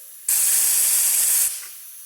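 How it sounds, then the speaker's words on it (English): Cleaner sprayed into the end of a carburetor air gauge, then blown through: one loud, steady high hiss lasting just over a second, cutting off sharply and leaving a fainter hiss behind. "Spray it in the end of the air gauge, it will soak into the end and then blow through"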